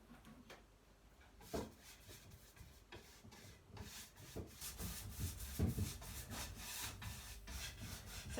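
Cloth rubbing excess wax off a wooden bedside table during a makeover, giving steady close scuffing and swishing strokes with a few louder brushes and knocks, continuing for several seconds without speech.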